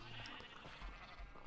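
Sheep bleat in the Minecraft video game, a short faint bleating call over a noisy background.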